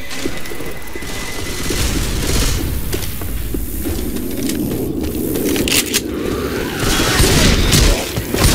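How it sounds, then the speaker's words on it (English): A pipe bomb explodes in the zombie shooter Left 4 Dead 2, a loud booming blast amid dense gunfire, crashes and scraping game chaos that runs throughout. "Throwing a pipe bomb."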